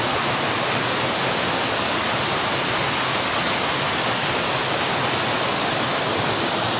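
Erie Falls in Ricketts Glen State Park pours in a constant, dense roar of rushing water, steady and loud throughout with no breaks.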